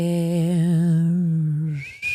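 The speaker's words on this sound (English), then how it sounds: "I do the whistle and then people get mad" A single person whistles a short wavering melody as a podcast intro, a clear close tone lasting under two seconds that ends abruptly.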